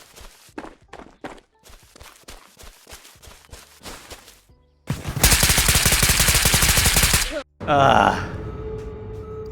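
Gunfire in the video game Ghosts of Tabor: scattered sharp single shots over the first seconds, then a loud, dense burst of sustained automatic fire, a brief gap, and another loud volley.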